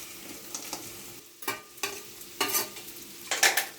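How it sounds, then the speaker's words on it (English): Fried prawns tossed in a hot pan for a loose prawns recipe, the oil sizzling steadily while several louder scraping stirs and tosses break through at intervals. "Now add the fried prawns which we have kept aside."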